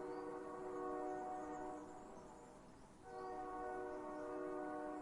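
Train horn in a horror video game, a sustained multi-tone blast that swells, briefly dips, then returns, sounding distant and fairly faint with no talk over it.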